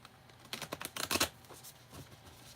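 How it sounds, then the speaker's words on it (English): A deck of tarot cards is shuffled in a quick flurry of close, crisp riffling clicks, followed by a few softer card taps. "Let's get one more shuffle."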